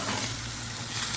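Pepper sauce mixture frying in a pot while being stirred, a steady close sizzle with faint scraping throughout, no voices.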